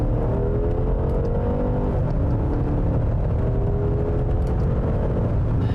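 Inside a 2016 Mercedes-Benz S550 as it accelerates, a smooth engine hum rises steadily in pitch over a constant road rumble, with no talking.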